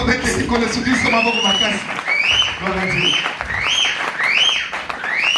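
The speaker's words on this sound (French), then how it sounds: "Acclamons très fort." A church congregation bursts into sustained applause and cheering, loud and continuous, with raised voices and rising vocal cries carried over the clapping.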